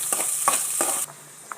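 Onions with mustard seeds, cumin, curry leaves and dried red chillies fry in a spoonful of oil in a kadai, giving a steady close sizzle with a few soft stirring scrapes before it drops to a quieter hiss.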